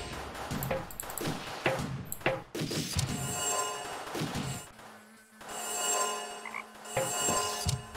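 A toad croaks in the Deponia adventure game, several irregular throaty croaks and thumps at close range, followed by a quieter stretch under a low steady hum.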